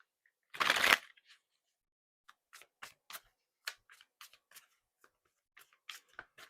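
Oracle cards getting a brisk riffle shuffle in one short close burst, followed by scattered soft taps and clicks of cards being handled and squared, with no talking.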